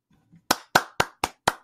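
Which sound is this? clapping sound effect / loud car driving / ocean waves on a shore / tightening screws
clapping sound effect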